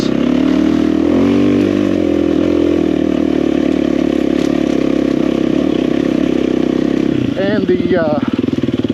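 A motorcycle on Dunlop D606 dual-sport tires rides steadily with a loud, sustained engine drone, the rider speaking over it, ending in a few quick revs as the throttle rises and falls.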